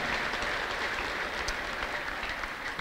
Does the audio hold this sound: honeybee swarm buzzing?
no